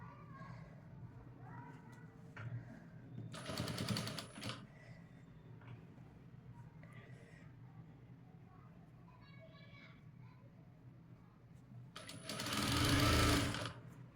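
Sewing machine stitching stiff buckram interfacing onto blouse main fabric, two loud bursts of running stitches separated by quieter handling noise, with faint background voices.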